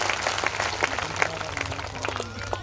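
Church congregation clapping hands during a Christmas festival service in Banswara, Rajasthan: a steady patter of claps from many people across the hall, moderately loud and continuous with no talk over it.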